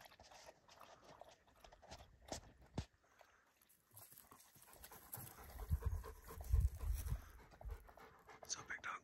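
A Belgian Malinois pants in short, rapid breaths close by during a wolf hunt in Montana, with faint footsteps and rustling around it and louder movement near the end.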